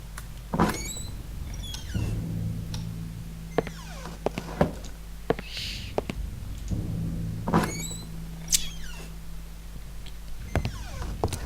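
Scratches video game door sounds: several knocks, thunks and creaky latch clicks, each sharp and separate, spread over a low steady hum, fairly close, with no talk.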